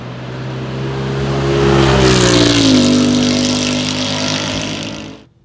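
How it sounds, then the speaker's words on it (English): A 2019 Ford Mustang GT engine revs up through a throaty, deep MBRP 3-inch catback exhaust with no muffler, only a resonator, the pitch climbing and holding loud before cutting off abruptly. "The exhaust is just an MBRP 3-inch catback."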